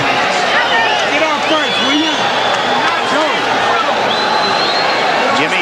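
A boxing arena crowd at the Julio Cesar Chavez versus Joey Gamache fight roars and murmurs in a loud, steady swell of massed voices, with cheers rising and falling throughout.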